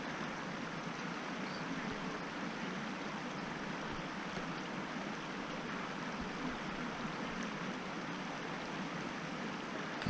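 A creek in Whitehorse Wildland Provincial Park, Alberta, rushes steadily and evenly, a constant broadband flow with no pauses or voices.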